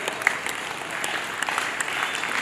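An audience at a 77th Independence Day flag hoisting ceremony claps steadily, a continuous moderately close patter of many hands without pause.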